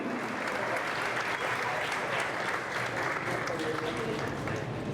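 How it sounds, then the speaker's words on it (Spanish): Steady audience applause at a conference after a singer's performance, with dense, even clapping throughout and faint voices mixed in. "Vamos a darle un fuerte aplauso, por favor."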